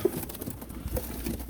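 Pigeons kept for flying and offered for sale in pairs coo faintly and briefly amid quiet ambient rustle, with no one speaking.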